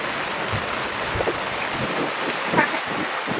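Heavy rain falling on a sailboat in a storm, a steady dense hiss throughout with a few soft knocks and splashes.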